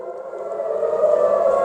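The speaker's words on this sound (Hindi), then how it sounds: "आप सुन सकते हैं सायरन" An air raid siren wails in Israel, a sustained loud tone holding steady and swelling slightly over a couple of seconds, heard alone.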